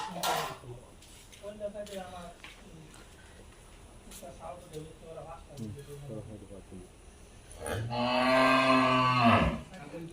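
A Brahman bull with four teeth, readied for Qurbani in Narsinghdi, lets out a loud, drawn-out moo near the end, preceded by several softer, shorter lowing calls and some background noise.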